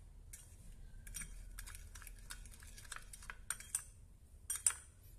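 Gloved hands toss a young jackfruit salad with herbs, onion and chili in a bowl, making soft intermittent rustles and light clinks against the bowl, quiet and close with no talking.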